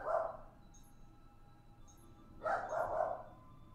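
A dog barks in a quiet indoor room, one bark near the start and a fuller burst of two or three barks later, moderately close and with no talk over it.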